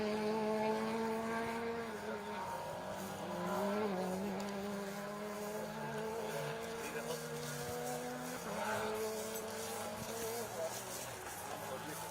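A Peugeot 208 R2 rally car on a special stage at Rally Wervik, its engine droning and shifting pitch as it revs through the run, with a commentator talking over it.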